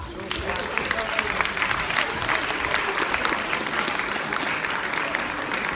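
A school audience at a Gymnázium Topoľčany matriculation ceremony breaks into sustained applause. Dense, even clapping continues throughout, with some voices and crowd murmur mixed in beneath it.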